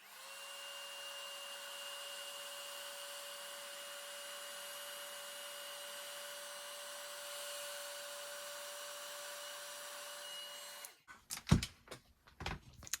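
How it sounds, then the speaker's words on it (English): A heat gun runs with a steady, fairly quiet blowing whir and a faint tonal hum, continuous for about eleven seconds before cutting off, followed by a few knocks and handling clatters. "use this heat gun"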